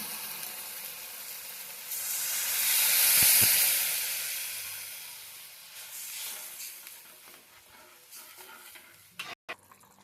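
Water is poured onto fried spice paste and tomato puree in a pan for egg curry, setting off a loud steamy hiss that swells and fades, followed by light stirring scrapes and a few clinks.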